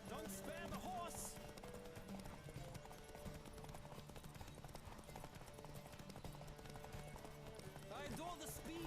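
Hooves of a galloping horse in The Witcher 3 keep up a fast, steady clip-clop beneath background music, while someone talks over the ride.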